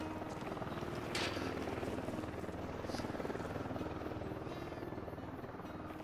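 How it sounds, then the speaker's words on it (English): In the video game Ghost Recon Wildlands, a helicopter flies overhead with a steady rotor buzz and chop that holds at moderate distance, lifting and easing slightly with a couple of faint brief bursts of higher noise. "Oh, chopper."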